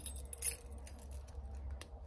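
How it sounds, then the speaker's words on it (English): A set of barn keys jangles faintly with a few light metallic clinks and rattles over a low steady hum, quiet and close, with no talking. "Oh, I almost forgot my other two keys."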